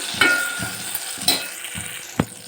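A spoon stirs a cooked tomato and onion mixture for carrot rasam in a pan, producing about five rhythmic scraping strokes over a soft, steady sizzle, close and alone.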